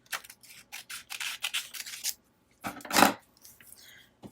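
Scissors trimming a thick paper flower embellishment for a Holly Hobbie journal, a run of soft close snips and rustles followed by a louder, sharper cut near the end, quiet throughout with no talking.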